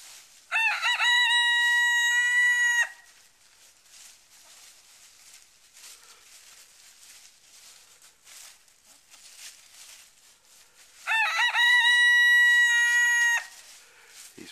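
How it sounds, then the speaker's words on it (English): A pet rooster crows twice, close and loud, each cock-a-doodle-doo running about two seconds and separated by roughly eight seconds of near silence with faint background noise. "And he is now known as Prince Leah, my only rooster."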